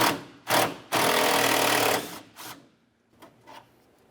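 Power tool spinning out an 8mm headed bolt from the grille mounting bracket of a 1994-2002 Dodge Ram 2500, short bursts then a long steady whir, followed by fainter brief pulses, close up with no talk.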